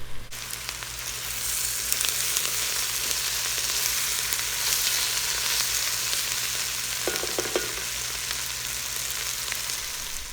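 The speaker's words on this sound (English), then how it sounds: "we have got some caramelized onions in this pan" Onions caramelizing in a pan for French onion soup, a steady close sizzle and frying hiss throughout, with a few faint stirring clicks and no talk.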